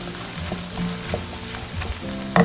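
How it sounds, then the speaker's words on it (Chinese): Wood ear mushrooms stir-fried with eggs and scallions over high heat in a wok, with steady sizzling and frying crackle, scraping stir strokes and light clinks running throughout, close and alone. "倒入炒好的鸡蛋。 大火翻炒1分"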